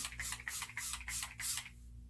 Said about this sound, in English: Just gonna spray this a little bit more.